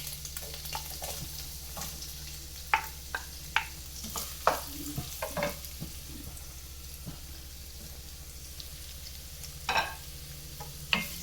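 Onion, ginger and green chilli fry in hot oil, a steady soft sizzle with occasional stirring scrapes and light clinks over a constant low hum.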